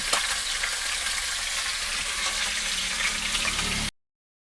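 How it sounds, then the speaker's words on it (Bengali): Fish head frying in a home pan gives an even, bright crackling sizzle with faint stirring, steady for a few seconds before cutting abruptly to silence; nobody speaks. "মাথা ভাজা হয়ে গেল।"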